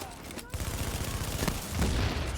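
Gunfire in The Division video game during an underground mission, a rapid string of thudding shots right up close with a voice faintly underneath.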